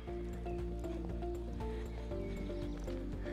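A horse moves between walk and trot outdoors, its hooves clip-clopping in a steady rhythm close by over a continuous low rumble, with a whinny-like sound mixed in.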